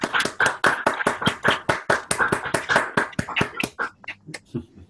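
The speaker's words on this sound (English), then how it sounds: "let's give a big applause to Mel" Clapping from an online audience after unmuting, a quick run of sharp, close claps in a fairly even rhythm from what sounds like one or a few people, thinning out near the end.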